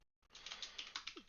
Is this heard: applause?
no